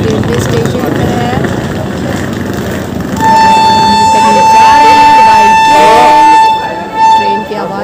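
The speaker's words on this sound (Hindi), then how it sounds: "ट्रेन की आवाज़ भी देखी आ रही है।" At a railway station, a train horn sounds one long, steady blast for about three seconds, loud against busy crowd noise and voices.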